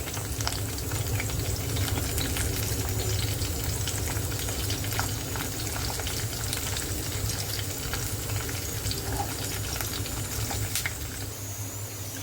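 A bay leaf and onion fry in a pan for an egg and potato curry, with a constant close sizzle and light crackle running throughout and faint stirring ticks.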